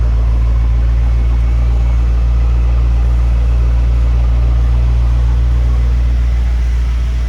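A Brabus 800 GT 63 S in race mode gives a loud, steady, deep engine rumble close by, a continuous low drone holding throughout with no talk.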